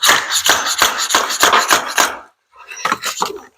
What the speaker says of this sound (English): Use it as a hammer.